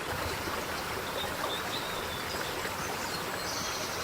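A small stream flows with a constant, soft, even wash of water, heard faintly and alone without voices.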